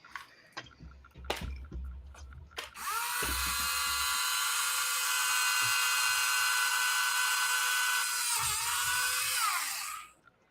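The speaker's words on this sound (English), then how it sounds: "uses the Tamiya handy drill." A Tamiya handy drill, a low-RPM hobby tool, starts after a few clicks and knocks, runs at a steady high-pitched whine for about seven seconds, then winds down and stops.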